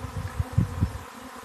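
A swarm of honeybees buzzes all around at close range, a dense low drone that swells and dips in uneven pulses with no talk over it.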